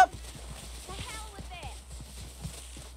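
A horse's hooves clip-clop at a steady walking pace in Red Dead Redemption 2, close and fairly soft, while a voice speaks over the hoofbeats partway through.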